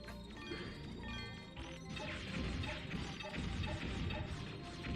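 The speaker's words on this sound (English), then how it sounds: "the ice shattering, it turns into ice cubes" Ice shatters in the PS1 game Megaman Legends 2 as a dense, continuous crashing and clattering of breaking shards, steady and loud for several seconds.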